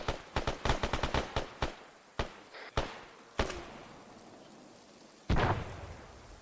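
Gunfire in ARMA 3 opens with a rapid automatic burst of sharp cracks, then slows to scattered single shots with long echoing tails, ending in one louder, nearer blast.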